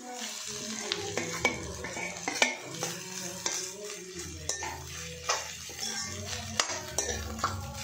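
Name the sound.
rice being added and stirred in a pan with Maggi noodles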